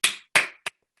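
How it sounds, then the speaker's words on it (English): Three quick sharp claps, two full bursts then a shorter one, ring out close and isolated in silence at a virtual graduation ceremony, more like a few hands than a crowd. "mass applause"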